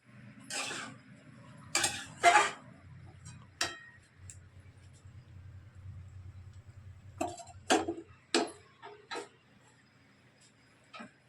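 Chicken kosha being cooked in a pot at home, with a metal spatula clinking and scraping against the pot in scattered sharp taps over a low steady cooking hum, no talking.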